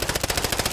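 Rapid automatic gunfire from Modern Warfare 3, a dense burst of evenly spaced shots rattling on for under a second, loud and close with no talk over it.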